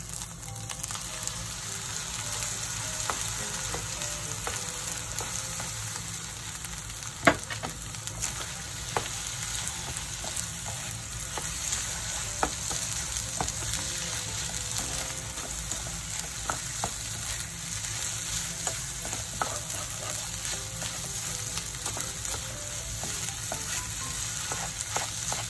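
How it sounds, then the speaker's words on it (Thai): Egg whites stir-frying in a hot pan for Japanese egg fried rice, a continuous bright hissing sizzle with scattered light scrapes and taps of the spatula, one sharper knock, steady and close throughout with no talking. "ผัดด้วยกันนะคะ"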